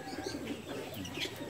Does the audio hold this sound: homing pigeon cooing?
yes